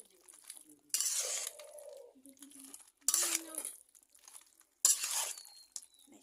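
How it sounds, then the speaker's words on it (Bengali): Marinated meat for tehari is stirred in a metal pot, heard as three loud scraping, clattering bursts of spoon against metal separated by quieter pauses, close by. "ভালোভাবে নাড়া"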